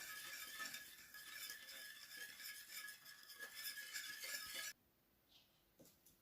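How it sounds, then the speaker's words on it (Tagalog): Sugar being stirred into a lemon cake mixture: a soft, continuous scraping and swishing that stops abruptly, followed by a few faint clicks. "I-mix ang sugar, 120 grams of sugar."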